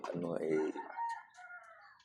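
Caged chickens kept on a small rooftop give a single rooster crow, a rising, drawn-out call fading into a thinner tail, near and fairly clear.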